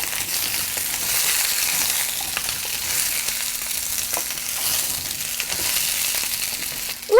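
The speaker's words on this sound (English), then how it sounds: "You're just going to let it cook on this kind of high heat for a couple of minutes until you get nice little brown spots all over them." Squash pieces fry on high heat with red pepper, a loud continuous sizzle with periodic scraping as they are stirred in the pan, and no talk.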